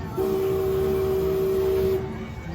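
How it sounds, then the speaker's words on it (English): A single sustained train whistle sound effect plays from a Disneyland MagicBand touch point, a steady clear tone lasting about two seconds over faint background murmur. "Train whistle."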